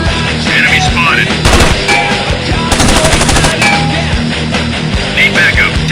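Airsoft gunfire during a team skirmish, dense loud bursts of rapid automatic shots running almost continuously, with faint shouted voices mixed in.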